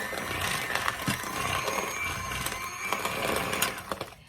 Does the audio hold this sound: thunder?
no